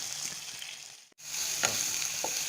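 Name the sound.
bitter melon frying and being stirred in a pan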